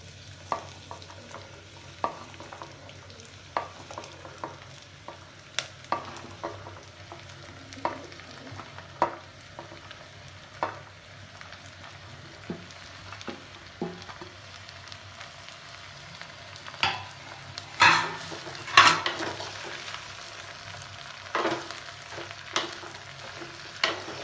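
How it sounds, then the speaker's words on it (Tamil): Ridge gourd sautéing in a pan with onion and garlic: a soft low sizzle underneath repeated sharp scrapes and taps of a spatula stirring, with a busier burst of clatter toward the end, no talking. "இப்போ பீக்கங்காய் போட்டு வதக்கிக்கலாம்."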